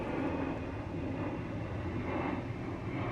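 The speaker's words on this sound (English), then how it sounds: "It gets cloudy here, the planes get louder." Low, steady roar of airplanes passing overhead on a cloudy summer day in Finland, a continuous broadband rumble with no pauses and no voices.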